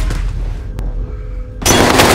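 Gunfire in a battle royale video game, a short sharp shot with a rumbling tail, a lull, then a loud burst of noisy blasts near the end.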